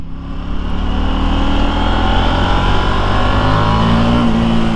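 A KTM Duke 890R motorcycle engine revs loud and close on a test ride, a sustained rising growl climbing through the mid-range with a steady, continuous drone and no talking.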